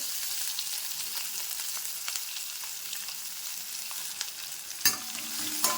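Onion and curry leaves frying in hot oil in a home kitchen, a steady close sizzle with occasional stirring scrapes and a sharper clatter near the end, no talking.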